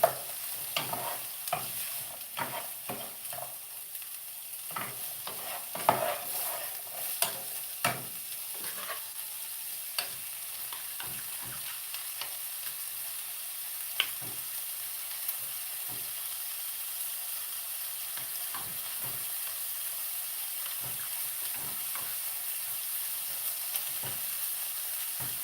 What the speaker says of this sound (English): I'm going to do about a half a can and just saute them.